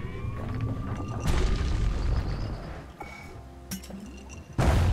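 A hand grenade blows up in the video game Bastion: a loud, deep boom with glassy clinks and rattling debris after it, then a second heavy blast right at the end, with no voice over it.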